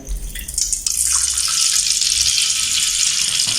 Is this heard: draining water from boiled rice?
yes